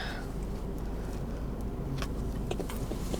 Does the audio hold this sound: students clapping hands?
no